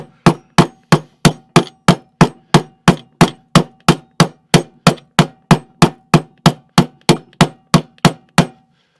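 A hammer peens a steel rivet on an armour buckle during combat-gear repair, about two dozen sharp, evenly spaced metallic strikes in a steady rhythm, close and loud with nothing else around them.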